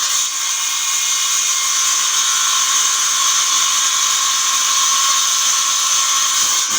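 A small handheld power saw cuts continuously during a modification job, giving a steady, loud, hissing whine that stays even throughout with no talking.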